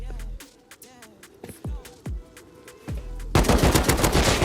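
Gunfire in the video game Rust crackles in rapid, repeated shots, with sharp single cracks and then a dense, loud burst of automatic fire at the end.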